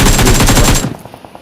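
An M16 fires in the BGMI battle royale game as a fast, loud burst of automatic shots lasting under a second, followed by a few faint trailing pops.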